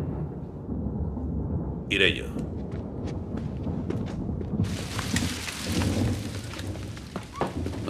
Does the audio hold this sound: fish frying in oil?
no